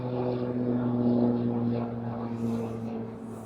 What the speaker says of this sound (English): airplanes are coming in from that direction today